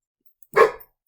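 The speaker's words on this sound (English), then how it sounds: "The dog went crazy." A single sharp dog bark, loud and close, standing alone against silence.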